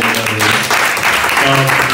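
Loud applause from a party audience welcoming young students back from abroad, dense clapping throughout with music or voices underneath.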